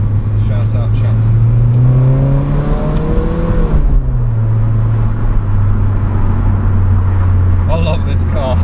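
A Nissan Silvia S15 engine while driving, a steady low drone that rises briefly with revs and settles back, loud and close from inside the car, with some brief voice-like sounds near the end.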